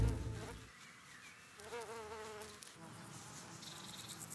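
Small flying insects patrol over flower beds, their faint, wavering buzzing rising and falling as they pass close by in a quiet outdoor setting.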